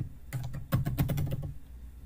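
Quick bursts of keystrokes on a computer keyboard as a browser address is typed, a close, steady clatter of about a dozen taps lasting over a second, with no talking.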